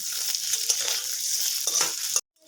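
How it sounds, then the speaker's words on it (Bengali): Pointed gourd and other vegetables fry in oil in a pan, giving a bright steady hiss with a few soft stirring taps before the sound cuts off abruptly near the end. "লাল লাল করে ভেজে নেব।"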